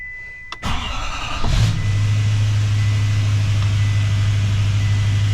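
GM truck with the 10-speed transmission, its engine cranking briefly and catching, then settling into a steady, close idle with a low droning hum that carries on alone to the end.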